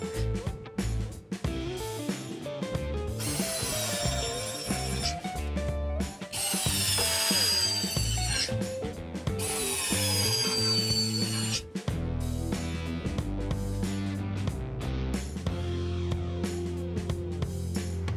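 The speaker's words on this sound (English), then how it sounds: "I recommend you use the third level of torque of the screwdriver to fasten the cabinet to the wall." An electric screwdriver drives screws to fasten a small melamine kitchen cabinet to a wall, its clutch ratcheting in loud, steady mechanical bursts with a whirring motor tone, and no talking.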